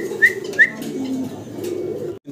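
Fancy pigeons at a farm coo close by, two short rising calls in quick succession over a low murmuring bed of cooing that carries on underneath.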